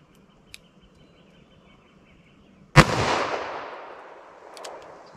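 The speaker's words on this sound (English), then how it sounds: "Let's try the 38 special rounds." A single loud .38 Special handgun shot rings out after a quiet stretch, its crack trailing off into a long echoing decay outdoors, with a faint click before it.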